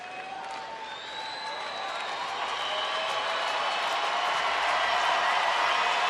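Baseball stadium crowd at a Rangers home game against the Astros in the 9th inning, a broad sustained roar of cheering and applause that swells steadily louder throughout, with no distinct voices standing out.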